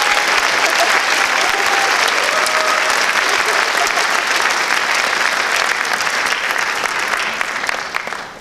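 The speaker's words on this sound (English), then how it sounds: "would you please join me and students included in giving Mrs. Rudolph a round of applause" An audience applauds a French horn player at a school holiday concert: loud, dense, sustained clapping filling the hall throughout, easing slightly at the very end.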